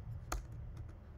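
Keystrokes on a computer keyboard while entering notes: one sharp key tap stands out, followed by a few fainter clicks, close and quiet with no talking.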